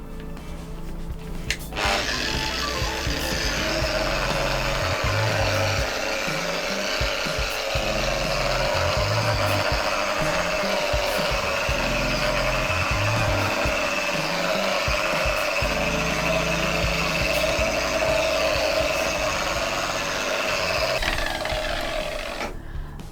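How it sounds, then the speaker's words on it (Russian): A low-speed angle grinder runs steadily with a continuous whirring rasp as a fur pad buffs decorative marble-effect plaster, the hum wavering slightly throughout. "Полировать я буду при помощи болгарки с низким количеством оборотов и меховой насадки."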